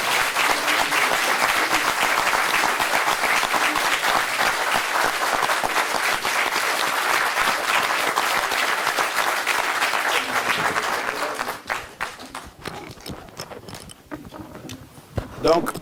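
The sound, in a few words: crowd applause, adoption by acclamation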